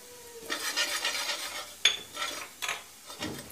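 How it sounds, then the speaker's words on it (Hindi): Green chili, coriander and turmeric cook in hot oil in a pan for a batata vada filling. A few quiet spoon scrapes and clinks against the pan sit over a faint sizzle, with no talking. "थोड़ी सी धनिया और हल्दी जो हमने निकाल के रखी थी उसको हम डाल देंगे और इसी तेल में अच्छे से इसको पका लेंगे"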